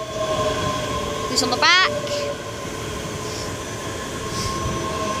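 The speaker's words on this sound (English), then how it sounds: "Scotrail service from Glasgow Central to Edinburgh Waverly." A ScotRail train at Haymarket station in Edinburgh, a 385 unit on the Glasgow Central to Edinburgh Waverley service, hums steadily with a short squeal partway through while a person speaks briefly nearby.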